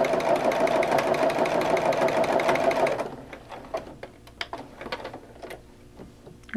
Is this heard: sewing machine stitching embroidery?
yes